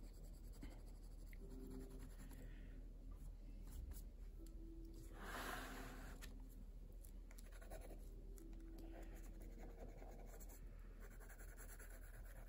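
A pencil makes loose, messy marks on the paper of an expressive arts journal. Close, continuous dry scratching comes in repeated strokes with short pauses, and no one speaks.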